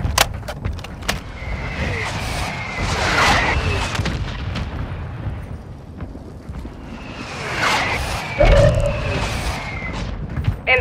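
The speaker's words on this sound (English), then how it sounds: "Mortar strike inbound." Incoming mortar strike in a video game: whooshing descents followed by heavy booming impacts, two main bursts several seconds apart with rumbling debris and scattered sharp cracks, fairly loud and close.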